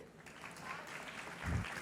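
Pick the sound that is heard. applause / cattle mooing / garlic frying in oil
applause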